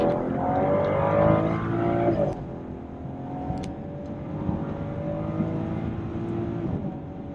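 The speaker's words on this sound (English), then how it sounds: "I'll try and accelerate here and see whether you'll be able to hear the engine noise" A BMW 640i Cabriolet F12 engine hums and revs as it accelerates, a steady rising drone with a sharp shift partway through, heard from inside the car.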